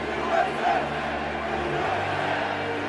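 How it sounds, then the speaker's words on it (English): A packed Yankee Stadium crowd at the 2001 World Series roars a rhythmic chant of USA, a dense, steady wall of voices with a couple of louder swells near the start. "The crowd just erupts in a chant of USA."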